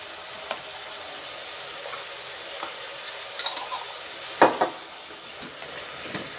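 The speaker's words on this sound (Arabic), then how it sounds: "غادي نخلي هاد العناصر تقلى مزيان مع بعضياتها" Chopped herbs (coriander and parsley) and tomato concentrate sizzle steadily in a pan, a soft continuous frying hiss broken by a few scattered stirring clicks and pops, with no one speaking.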